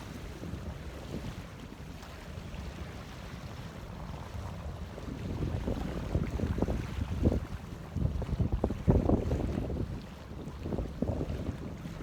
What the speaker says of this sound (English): More of that sound of the ocean